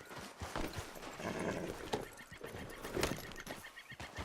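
Horse hooves clip-clop in Red Dead Redemption 2 in a brisk uneven rhythm, and a horse neighs and snorts briefly, all quite faint and close.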